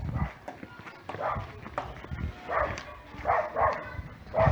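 A dog on a hiking trail in Guatemala barks in scattered bursts. There are footstep-like thuds, and a voice speaks under the sounds at moderate distance.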